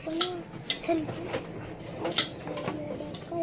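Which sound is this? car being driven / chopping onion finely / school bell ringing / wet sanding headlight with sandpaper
chopping onion finely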